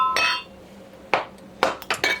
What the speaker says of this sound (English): I have too many glass things clinking around.